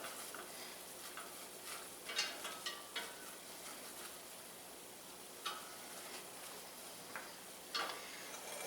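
A flour roux being stirred in a pot, with a soft scraping and faint sizzle under a few sharp spoon taps against the pot's rim, close and quiet with no talking.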